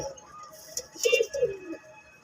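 Pigeons in a home loft, including white and black birds with orange eyes, giving a few soft close coos among faint chirps and light rustling, with a quiet voice in the background.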